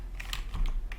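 Quick keystrokes on a computer keyboard as an IP address is typed in, close and clear, a short run of taps with no voices.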